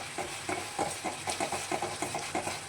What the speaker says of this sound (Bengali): আমার মশলাটা ভাজা হয়ে গেছে